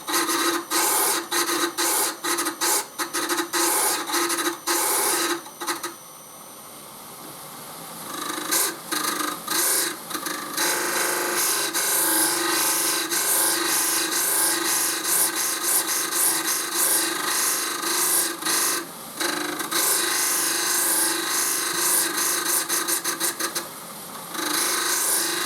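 A gemstone is pressed by hand against a spinning grinding wheel during preforming, giving a continuous close rasping, scraping grind that swells and eases as the high and low spots catch, with a brief lull near the middle.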